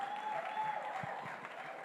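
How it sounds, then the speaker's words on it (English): Quiet, sustained applause from a crowd, somewhat distant, with a faint tone and a few louder claps scattered through it. "Please give yourselves a resounding round of applause"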